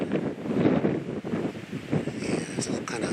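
Wind gusting across a hillside at an old mine, a loud rushing roar buffeting the microphone, with a voice partly heard beneath it.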